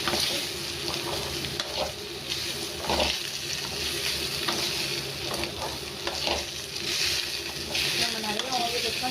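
Marinated elephant foot yam pieces fry in hot oil in a pan, making a busy, crackling sizzle with occasional scrapes and stirs. A faint voice may sit under the noise.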